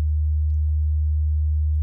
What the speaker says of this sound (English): it's nice sine wave, and we got the nice rounded peak at the top